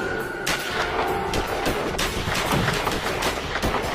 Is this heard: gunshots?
yes